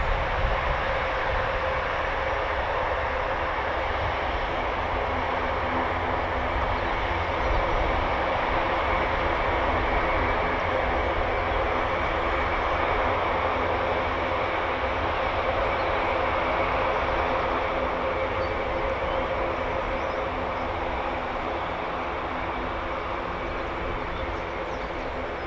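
C-130J Hercules turboprop engines run at RAF Brize Norton, giving a steady, loud droning roar with a propeller hum that holds unbroken throughout.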